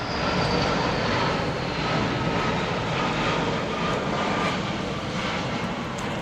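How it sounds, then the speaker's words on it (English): A low-flying fixed-wing airplane passes overhead, its engine giving a loud, steady broadband roar that fills the whole moment without talk. "Wow, that's a close plane"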